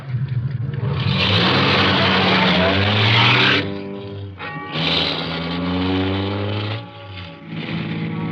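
A car pulling back onto a road in a 1940s radio suspense drama, a loud engine revving up and accelerating, dropping briefly and then surging again without any talk.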